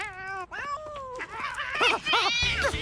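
A cat meows repeatedly up close, giving several drawn-out wavering cries and caterwauls one after another.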